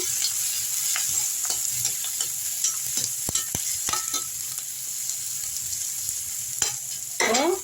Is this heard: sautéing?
yes